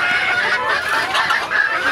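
A large hen clucks close by in a loud, continuous series of throaty clucks.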